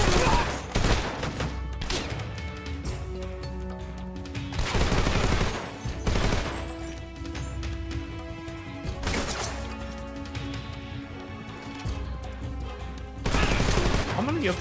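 Enemy gunfire in the action game Lost Souls Aside crackles in repeated loud bursts and volleys, mixed with crashes and a steady music bed, with a few heavier blasts rising near the start and end.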